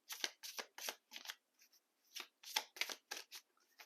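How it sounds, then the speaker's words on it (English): Moonology oracle cards being shuffled and drawn: a quick series of crisp riffling bursts close by, pausing briefly midway and then resuming. "let's pull a Moonology card or two"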